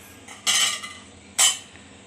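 A metal lid is lifted off a pot of simmering herbal kadha, an immunity-boosting decoction, making two short clattering clinks about a second apart, close by, against a quiet background.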